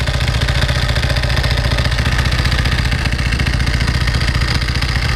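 A 1995 Ducati 900SS SP idles up close, its dry clutch and belts rattling in a fast, even clatter over the loud, steady thrum of the engine.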